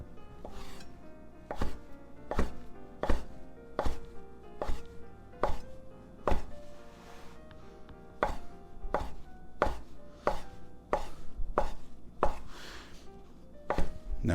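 A knife chops through rolled sheets of fresh pasta on a board for lemon and pistachio pesto, giving steady, evenly spaced knocks, close and crisp, about fifteen cuts in a row with no talk.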